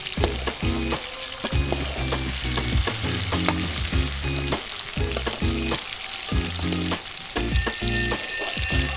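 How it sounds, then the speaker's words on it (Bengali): Tiger prawns fry in a pan with a steady, close crackling sizzle, broken by repeated scraping strokes of stirring and light clatter of the utensil against the pan. "চিংড়ি মাছটা ভাজা হয়ে গেছে। তো চিংড়ি মাছটাকে আমি হালকা করে ভেজেছি।"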